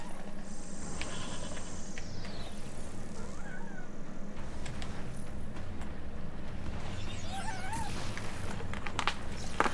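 A pet cat meowing, a few short rising and falling meows heard alongside game sounds and other background noise.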